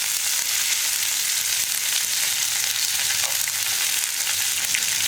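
Steady, dense sizzling of onions, dried red chilies and curry leaves frying in hot coconut oil for papaya parippu erissery, with faint stirring and no voices.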